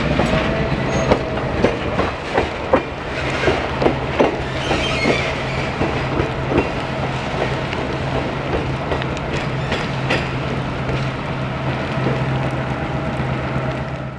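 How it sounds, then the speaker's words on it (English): On the Mount Hood Railroad, a locomotive at the head end hauls a train up a tight, steep grade of up to 3.4%, with a steady low engine drone, rhythmic wheel clatter and occasional clicks, moderately loud and continuous. "The locomotive is now on the head end of the train and in a better position for tackling the tight, steep climb to come."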